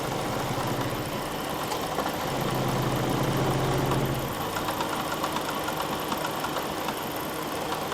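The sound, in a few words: Jeep engine idling during phaser test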